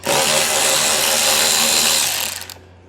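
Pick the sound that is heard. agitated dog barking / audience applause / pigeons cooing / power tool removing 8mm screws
power tool removing 8mm screws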